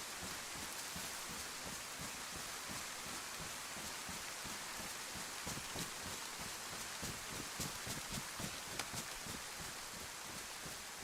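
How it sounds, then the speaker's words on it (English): Steady rain in the survival video game DayZ or VEIN, a soft, constant patter of drops with faint rustling throughout and no talk. "I don't mind the rain, you know."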